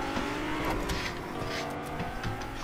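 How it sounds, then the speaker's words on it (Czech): A sports car speeding along in Fortnite, its engine droning steadily and loud throughout with a continuous revving roar and faint tire noise, no talk over it. "To je to sporták, takže jede jak šílený."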